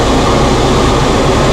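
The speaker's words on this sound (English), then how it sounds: "We got your blower, and I can feel it blowing there." The cab blower fan of a 2016 John Deere 5100E utility tractor runs with a loud, constant whooshing roar, with the tractor's low engine rumble blended in beneath it.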